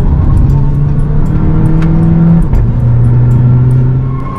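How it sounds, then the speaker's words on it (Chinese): The small-displacement engine of an MG6 heard from inside the cabin, a loud sustained drone rising in pitch as the car accelerates, dipping briefly around a gear change before climbing again. "这台车的车内声浪真的是太棒了，一点都不像是一个非常小排量发动机"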